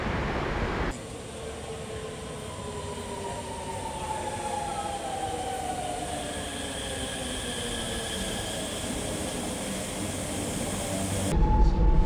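Steady rumble and rolling wheel noise inside a premium-class coach of the Delhi–Meerut RRTS rapid train while it is moving, with rising and falling whine tones running throughout and no talking.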